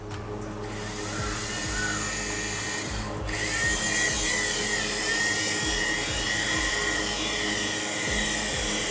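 A radio-controlled toy helicopter flies close by with a continuous whining motor and rotor drone, steady and fairly loud throughout, with no talking.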